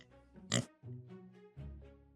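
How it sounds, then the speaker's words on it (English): A pig sounds off with short grunting oinks, one sharp squeal followed by two lower, rounder grunts, heard close and fairly quiet. "This is how a pig sounds."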